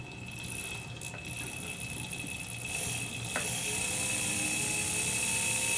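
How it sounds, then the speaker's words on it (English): A small 45-degree burr on a rotary tool cuts a seat for a gemstone setting, giving a steady, high whine with brief pauses and shifts in pitch as it bites into the metal. "Going to put a little burr life onto the 45-degree burr."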